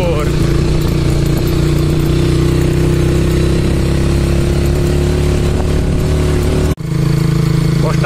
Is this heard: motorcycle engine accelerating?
yes